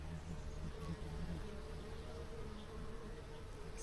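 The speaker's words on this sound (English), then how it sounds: "There's a hummingbird hawk moth" Hummingbird hawk moth buzzing at lavender, a faint continuous wingbeat hum over quiet outdoor garden background, with no voices.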